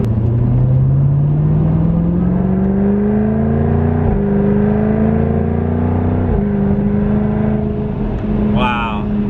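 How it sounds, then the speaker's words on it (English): A 2020 Jaguar F-Type R engine hums and rises steadily in pitch as it accelerates with exhaust open, with gear-change dips, heard from inside the cabin as a continuous loud rumble. "Oh wow, and you can really hear the engine."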